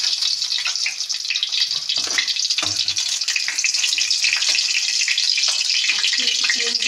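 A bay leaf sizzles in hot ghee in a pan, a steady close hiss of frying with faint clatter, no speech.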